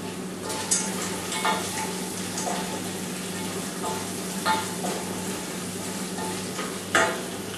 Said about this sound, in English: So here goes those peanuts, which also goes inside